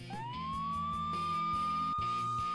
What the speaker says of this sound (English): Isn't that the noise from those police cars with the flashing lights?